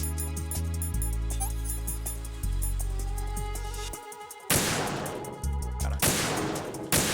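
Sharp bursts of gunfire from Metal Gear Solid 2: Sons of Liberty cut loudly over a steady game music bed, with two or three broadband blasts in the second half.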